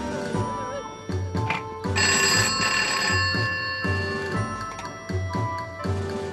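A telephone rings in repeated bursts with short pauses between them, loud and close, over a faint ticking background.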